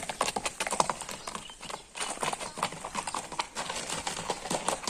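A young stallion offered for sale is led at a walk, its hooves clip-clopping in a steady, close rhythm with a brief pause, with only faint voices around.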